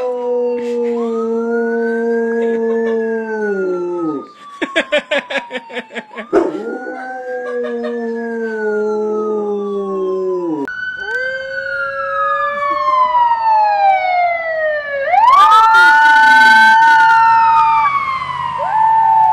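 A dog howls along with a wailing ambulance siren, long rising and falling tones trading off with the dog's voice, loud and close throughout with no talk.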